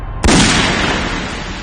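A single sharp bang rings out, followed by a long rumbling decay that fades slowly over more than a second, with no talking.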